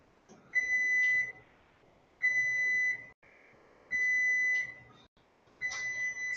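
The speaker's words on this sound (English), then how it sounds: "30 seconds now until the potatoes beep." A kitchen timer set for potatoes beeps in four spaced bursts, each a rapid string of high electronic chirps lasting about a second, fairly faint against a quiet kitchen background.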